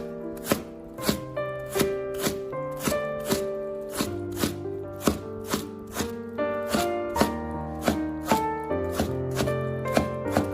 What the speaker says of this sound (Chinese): 再将萝卜菜的菜叶切成小段。